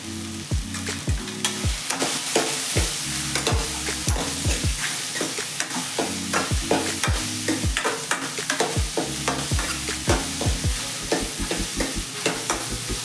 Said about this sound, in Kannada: ಅರಿಶಿನ ಹಾಕೊಂಡು ಫ್ರೈ ಮಾಡಿಕೊಂಡ್ರೆ ಒಳ್ಳೆ ಘಮ ಬರುತ್ತೆ